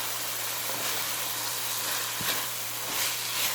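Fresh spinach leaves stirred into sizzling masala in a pan for aloo palak, a steady soft frying hiss with a few faint scraping stirs, close and alone.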